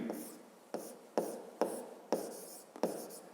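Pen strokes scratch across paper while short lines are written out for a fifth-grade math exercise on three straight lines, giving about six crisp, evenly spaced strokes recorded close up with no talking.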